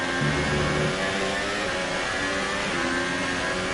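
Formula 1 car engine in F1 2018 at a wet-to-dry Belgian Grand Prix, a continuous high-revving whine with shifting pitches, loud and steady throughout, no talk.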